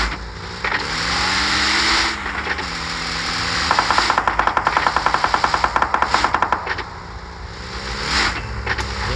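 Rapid bursts of automatic gunfire from the PUBG Mobile battle game, loud and close, fire in a long rhythmic string over a background of engine hum and game ambience.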